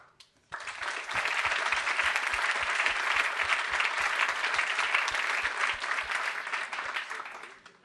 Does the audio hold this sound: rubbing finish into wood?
no